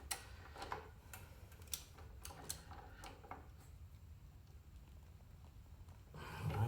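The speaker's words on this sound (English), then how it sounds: "So 66 foot-pounds is what I have set on the torque wrench. And this is a click type." A click-type torque wrench set to 66 foot-pounds works on a front axle slider fitting of a Yamaha FJR 1300ES motorcycle. It gives a series of faint, sharp clicks and ticks at uneven intervals, close by, in a quiet room with no speech.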